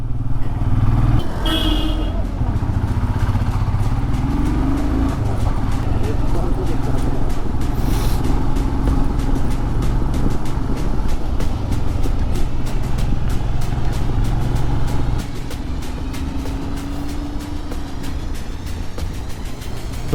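A motorbike rides along a mountain road in the Darjeeling hills, its engine droning steadily and close throughout, with wind rush and occasional voices over the ride.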